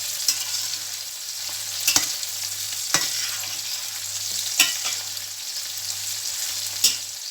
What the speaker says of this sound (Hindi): तो यहाँ देखिए भिंडी को मैं फ्राई कर रही हूँ, हल्का सा फ्राई कर लेंगे।